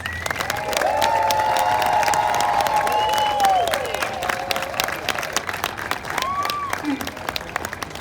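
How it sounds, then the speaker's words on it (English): An audience at an 8th grade promotion ceremony breaks into loud, sustained applause with cheering and whoops from a large crowd, filling the room steadily for several seconds. "One more round of applause for our awesome grads."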